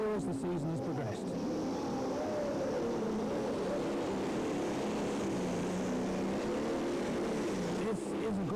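A Valmet 8400 pulling tractor with four turbos roars at a European tractor pulling event in France, a sustained, somewhat distant engine drone with a wavering pitch under a loud crowd wash and commentary.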